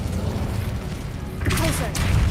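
An Incendio fire spell cast in Hogwarts Legacy: a sudden crackling whoosh bursts in about halfway through, over a steady rumbling game background, with a voice speaking on top.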